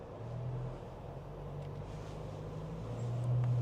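A Toyota Land Cruiser J250 crawls off-road over a big bump, its engine a steady low rumble that swells slightly toward the end, with no talk.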